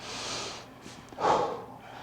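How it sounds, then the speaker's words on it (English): A deep inhaled breath taken while holding a wide-stance deep squat stretch on a mat, a single close breathy rush swelling briefly in the middle of a quiet room. "Breathe in deeply"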